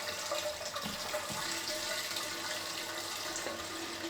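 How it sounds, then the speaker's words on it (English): A pump pushes wort from a HERMS brewing system into a fermenter, giving a continuous close hiss and gush of flowing liquid with a faint steady hum beneath, no voices. "reach over and turn the pump on here"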